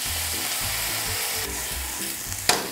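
Diluted sauce poured into a hot wok of stir-fried vegetables and minced garlic for Nagasaki champon gives a loud, steady sizzle with low clanks of stirring, then a sharp hiss that flares near the end.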